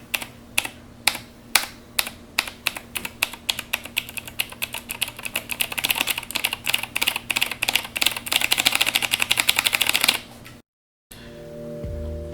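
Typing on a Kemove Shadow mechanical keyboard, Halloween Edition: a close, steady stream of crisp key clacks that starts as sparse single presses and quickens into dense rapid typing, then cuts off abruptly, followed by a brief faint tail.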